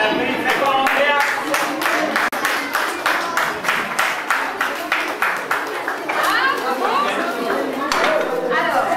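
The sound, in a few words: audience applauding a quiz winner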